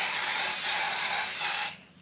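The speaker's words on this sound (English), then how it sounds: "I'm also going to spray it with some gold" A can of shimmer gold lacquer spray hisses steadily while coating a cake decoration. The loud, continuous spray lasts under two seconds and then cuts off abruptly.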